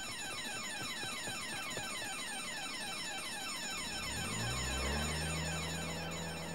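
An automatic alarm rings loudly and continuously across an estate's grounds during a painting theft, a steady electronic warbling tone with a low rumble rising near the end.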